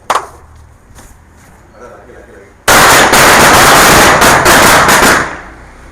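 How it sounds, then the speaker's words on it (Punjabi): A large firecracker goes off in a rapid, loud crackling burst lasting about two and a half seconds, after a quieter stretch with a sharp pop at the start. "ਚੱਕ ਕੇ ਵੱਡਾ ਚਲਾ ਦੇ ਪਟਾਕਾ ਚਲਾ ਦੋ"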